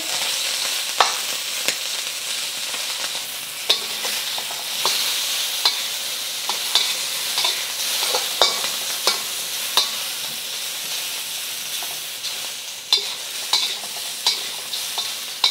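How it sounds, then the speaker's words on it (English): About a dozen small shrimp stir-fry quickly in oil, giving a bright, constant sizzle punctuated by regular clicks and scrapes of the spatula against the pan. "They're just little shrimp. I'm gonna cook these quickly."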